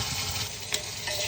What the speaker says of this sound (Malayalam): കടുക് ഇട്ടു, കടുക് അതിനായിട്ട് പൊട്ടി വരുന്നുണ്ട്.